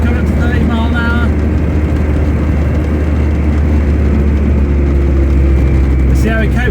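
CVT car cruising at 30 mph over potholed road, a loud, steady engine and road drone filling the whole stretch with dense low rumble, faint thumps and knocks underneath, and brief speech-like sounds near the end.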